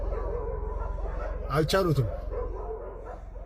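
Several dogs bark and yip in a short burst at a hyena, sounding somewhat distant beneath someone talking over steady low background noise.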